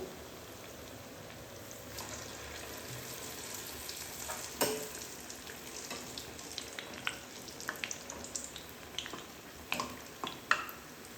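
Corn fritters (boorelu) made from fresh maize frying in oil on the stove give a continuous close sizzle, with scattered pops and small spatters throughout.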